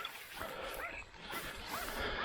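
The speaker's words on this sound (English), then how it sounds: "Good dog." A hunting dog whimpers and yips faintly during a feral pig hunt outdoors in New South Wales, with short whines rising and falling over a noisy open-air background.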